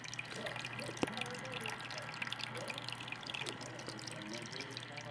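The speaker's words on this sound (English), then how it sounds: "The only thing you hear is the water trickling into the tank" Water trickles from the filter into a 46-gallon bowfront planted aquarium, a soft continuous splashing and dripping with a low electrical hum underneath, fairly quiet and close.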